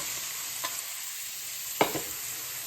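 Sliced onion frying in oil with crushed spices, a soft steady sizzle broken by two brief stirring scrapes, the second sharper, with no talk.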